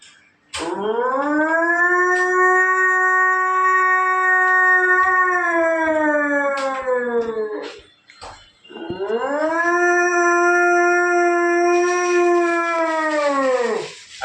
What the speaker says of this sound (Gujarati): કૂતરું કઈ રીતના રડે